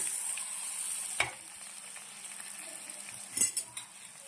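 Patra bites sizzle in a hot tempering of oil, sesame, cumin, mustard seeds, curry leaves and asafoetida, a steady close fry broken by a few clinks and scrapes of a spoon stirring the pan.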